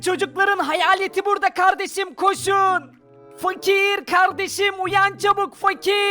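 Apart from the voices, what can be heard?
No distinct noise like a dog, phone or traffic.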